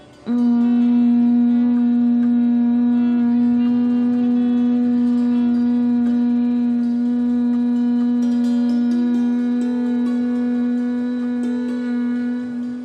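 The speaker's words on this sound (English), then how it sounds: "Now exhale with a humming sound." One sustained, steady humming exhale during Bhramari bee-breathing pranayam, a close, loud, buzzing drone held evenly for over ten seconds.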